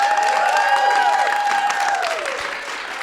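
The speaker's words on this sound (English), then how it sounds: "So can I ask you all one more time to give us a good round of applause?" A live audience in Chicago gives a brief round of applause, dense clapping filling the room before fading near the end, with no speech over it.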